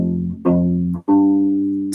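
A U-Bass plays measure 4 of the Westworld theme, three clear plucked low notes in sequence, each ringing and sustaining before the next, played alone up close.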